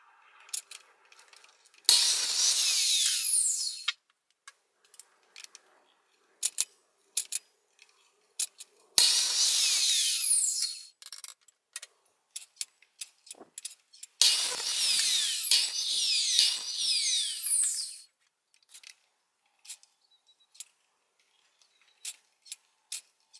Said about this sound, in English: Now on to cutting the miters.